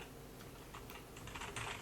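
Quick taps on a computer keyboard, close and soft, a short burst of keystrokes clustering toward the end over steady room noise.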